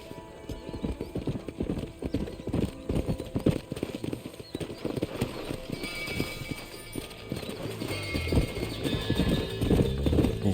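Hooves clip-clop at a steady gallop throughout in Red Dead Redemption, with a horse whinnying over the rhythmic pounding and a busy game soundscape underneath.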